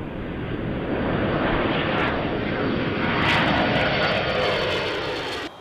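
KC-135 Stratotanker jet engines at takeoff power, heavily loaded with fuel, producing a loud, sustained broadband roar that swells slightly mid-clip and holds steady throughout.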